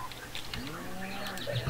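Cows at a cow farm in a video game, a short bellowing moo with rising and falling tone, close and clear over a low ambient hum.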